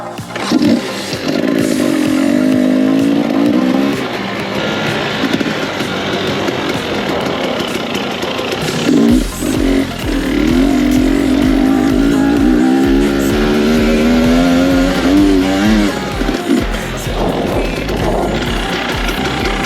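A new motorcycle on its first ride, its engine droning loud and steady with rising and falling pitch as it revs, close up and continuous with no talking.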